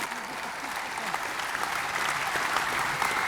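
An award dinner audience claps for the winner, a steady, moderately distant wash of applause holding evenly for a few seconds.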